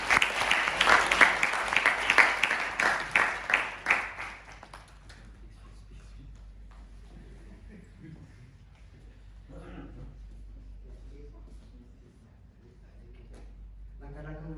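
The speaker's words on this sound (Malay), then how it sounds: "Semua orang beri tepuk tangan untuk Adi." Audience applause at a youth talk, loud, dense clapping for about four seconds that then stops abruptly, with quiet room sounds and faint voices afterward.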